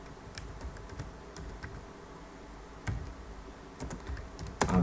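Keys tapped on a computer keyboard while entering a short text message for a Telegram chat bot, with sparse, close clicks in small bursts and a louder keystroke at the end.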